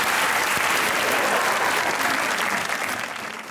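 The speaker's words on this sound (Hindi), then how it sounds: "तालियां बजेंगी तो लफ्ज आ जाएंगे" A studio audience at a comedy talk show breaks into loud, full applause that holds steady and then begins to taper off near the end, with no voices on top.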